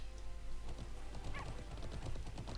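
A horse in the online game Alicia Online clip-clops along in quiet, steady hoofbeats, faint and a little distant under a low background hum.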